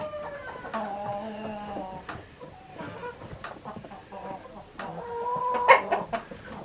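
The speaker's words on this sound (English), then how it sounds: "There's two roosters right there, three. There's a hen." Several chickens cluck and call back and forth at close range, with harmonic rooster-like calls rising over a busy farmyard background.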